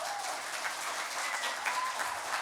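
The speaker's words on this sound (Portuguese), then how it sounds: "Então, uma salva de palmas." An audience applauds to honour Ichikawa-san at a symposium of Japan festival organisers, steady, dense clapping throughout the short stretch.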